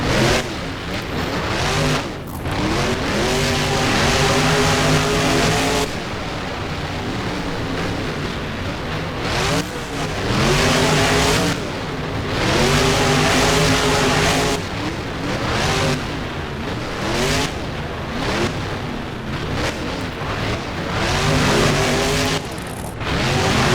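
Monster trucks race in the BeamNG driving game, their engines roaring loud and continuous, with repeated rising and falling revs as they accelerate and take turns.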